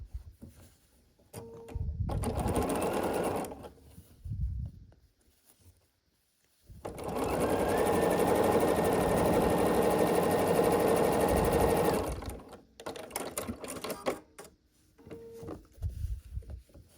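A sewing machine stitching quilt pieces for a pumpkin table-runner block runs in two close, loud bursts, a short one and then a longer steady whir, with quiet handling noises in between.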